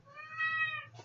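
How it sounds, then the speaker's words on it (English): A cat meows in one drawn-out, rising-and-falling call lasting about a second, heard close and clear with no talking over it. "I heard a kitty."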